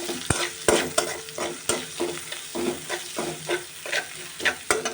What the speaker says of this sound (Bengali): একটু নেড়ে চেড়ে হালকা করে ভেজে হলুদের গুঁড়া আর লবণ দিয়ে দেব।